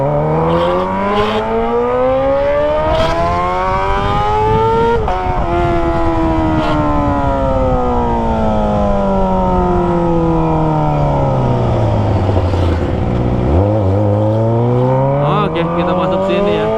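A Kawasaki ZX25R motorcycle with a Toce exhaust revs hard up through its gears, a loud, high-pitched wailing engine note climbing and falling repeatedly with shifts, close and dominant throughout.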